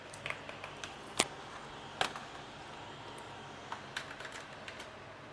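Typing on an external keyboard hooked up to a Dell Latitude 3330 laptop: faint, scattered key clicks with a few sharper, louder taps over a soft background hiss, and no voices.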